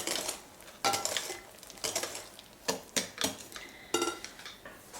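A spoon stirs lemon juice into Jamaican rum cake batter in a bowl, with soft scraping swishes and irregular clinks of the utensil against the bowl, close up and with no voices.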